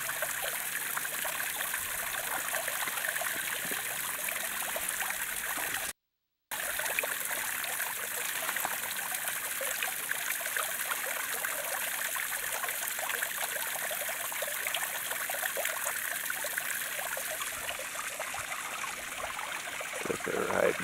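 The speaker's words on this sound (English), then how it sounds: "I got the waterfall like it's supposed to be." Water from a backyard pond waterfall splashes and trickles steadily down rock, a continuous near babble that holds constant throughout, broken once by a brief dropout.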